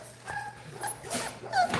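Short, close whimpers and yips from T'Challa, an American Bully dog, in a few quick bursts rising to a higher squeal near the end.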